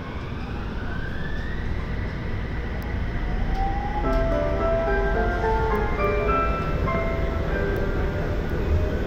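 Utsunomiya Light Rail tram pulling away from a stop, a steady motor whine rising in pitch over rolling rumble, heard from inside the car at moderate level without talk.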